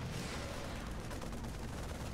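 Dense, continuous barrage of gunfire and weapon blasts in a StarCraft II battle, loud and unbroken throughout, with no voices.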